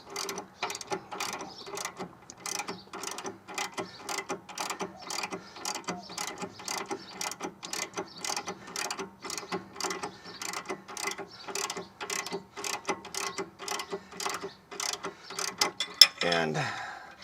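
A hand ratchet clicks in a steady, rapid rhythm while tightening a car's sway bar link nut, the shaft held with a hex wrench; close and fairly loud, with a brief clunk near the end.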